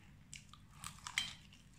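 Faint, close crunching bites into fried chicken coated in Lay's chips: a few brittle crackles spaced across the moment, quiet against a soft background.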